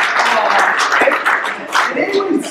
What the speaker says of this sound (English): I just felt like a round of applause for 1974